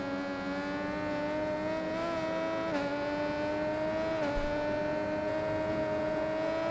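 An MV Agusta naked motorcycle racing in the video game RIDE 4, its engine holding a steady high whine with brief dips as it shifts gears or brakes, moderately loud and close with no talk.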